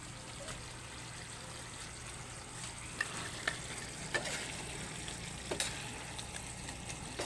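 Steady sizzling and crackling of dried fish frying in a pan, with occasional stirring clicks, fairly close and continuous.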